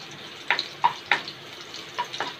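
Crushed garlic sautéing in a spoonful of hot oil for a fenugreek greens dish, with a soft steady sizzle broken by a few sharp spatula clicks and scrapes, close by with no talking.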